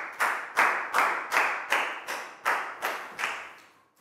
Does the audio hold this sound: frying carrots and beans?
no